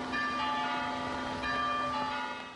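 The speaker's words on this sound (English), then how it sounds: "it was church bells that were ringing out" Church bells ring out over downtown St. Augustine, Florida, during Hurricane Jeanne, a steady sustained peal of overlapping tones that stays loud and dense throughout, with a fresh strike partway through and no voices.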